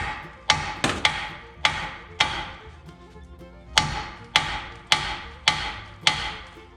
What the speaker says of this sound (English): see if we can get this ball joint out of this knuckle. We're gonna hit on this a little bit.